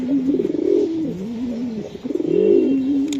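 A female racing pigeon coos up close in two rolling, warbling phrases with a short dip between them, loud and clear with no talking over it.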